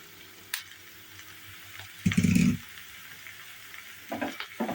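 Chopped mushrooms hit a hot pan with a sudden loud sizzle, then frying crackles on steadily, with a few stirring scrapes toward the end.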